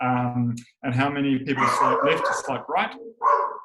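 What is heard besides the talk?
dog barking in the background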